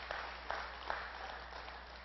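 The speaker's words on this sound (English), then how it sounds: "we can kind of give a round of applause for that this week" A church congregation applauds to celebrate salvations, a soft, muffled patter of clapping with a few sharper claps standing out, fairly low in level throughout.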